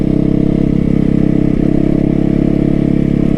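A motorcycle engine runs steadily under load on a rough dirt road, shifted into third gear, with a constant droning hum and slight change in pitch midway, loud and close.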